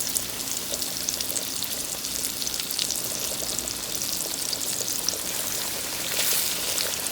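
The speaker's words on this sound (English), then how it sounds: "I am frying these in just regular vegetable oil." Oil crackles and sizzles steadily as pork chops fry in vegetable oil in a pan, a dense, continuous hiss close up with no talking.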